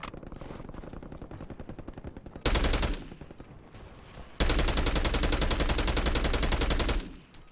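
Automatic gunfire from a heavy-recoil weapon in a war-zone shooter video game, rattling out in two loud, rapid bursts: a short one, then a longer sustained volley lasting several seconds.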